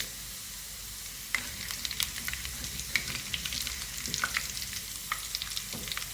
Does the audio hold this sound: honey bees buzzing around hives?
no